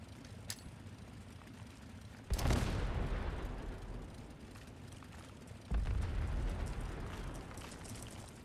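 A quantum nuka grenade detonates in the video game Fallout 76, a sudden booming blast with a roaring tail, followed a few seconds later by a second rumbling burst, over quiet background game sound.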